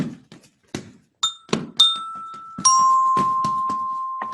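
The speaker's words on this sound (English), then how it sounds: "And when somebody rang the doorbell" Doorbell rings in a Sam Spade radio drama, sounding as repeated bright chimes with sustained ringing tones. Thumps and knocks come before it, and the final long ring carries on to the end.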